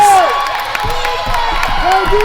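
Spectators at an 8U youth basketball game cheer and shout in a gym, a loud burst of crowd noise with sneaker squeaks on the hardwood and scattered whoops.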